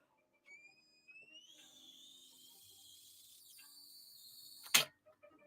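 A thin, high whistle rising in pitch and held for a few seconds, faint and alone, ending with a sharp louder burst.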